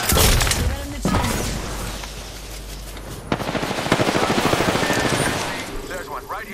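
Rapid bursts of automatic gunfire in a co-op shooter video game, sharp cracks and shattering impacts under talking voices, with a loud sustained volley in the second half.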